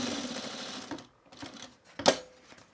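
A sewing machine stitches along the edge of a fabric bag in a steady run that stops, then comes back as a few short, separate bursts, the last one a sharp clack.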